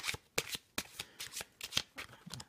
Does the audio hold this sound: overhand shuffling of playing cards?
yes